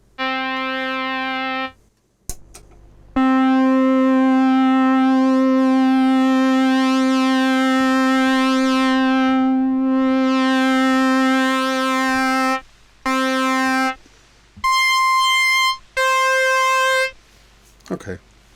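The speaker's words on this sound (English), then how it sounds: "Little trumpet sound." A keyboard sampler plays a synthetic trumpet voice: a long sustained brassy note, then several short staccato notes in different pitches separated by gaps.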